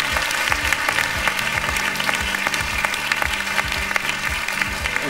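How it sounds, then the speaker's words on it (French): A television game show studio audience applauds loudly and steadily, dense clapping sustained throughout with rhythmic low thumps beneath it, suggesting music playing along. "Applaudissez Lucille et Nicolas."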